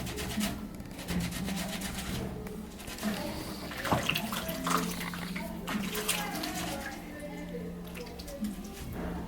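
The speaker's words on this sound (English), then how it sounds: "I'll just now rinse it off." Water runs steadily from a tap as a makeup brush is rinsed beneath it, a continuous close splashing wash with small irregular drips and clatters throughout, no speech over it.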